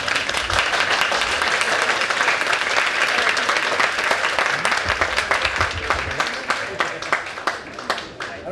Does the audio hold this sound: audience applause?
yes